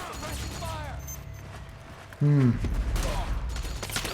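Gunfire in Metal Gear Solid 4, a loud burst of automatic fire breaking out midway through a tense firefight and going on amid shouted voices.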